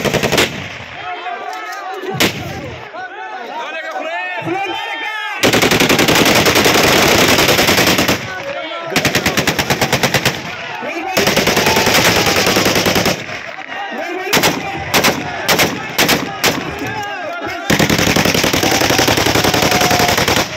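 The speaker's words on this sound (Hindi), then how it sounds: "ये उनके ये फायरिंग की आवाज़ें भी हो रही है।" Celebratory gunfire at a PTI political rally in Lakki Marwat, with long, loud bursts of rapid automatic fire that come and go in repeated volleys, separated by short gaps and faint crowd noise.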